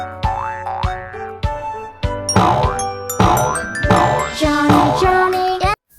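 Cartoonish boing of a bouncing ball in a children's alphabet song: springy pitch-bending tones repeating in a quick, loud rhythm over bright musical chimes.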